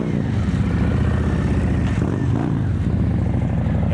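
Harley-Davidson CVO motorcycle engine running steadily while riding, a loud, close, continuous mechanical drone with clattering texture and slight pitch shifts, no talk over it.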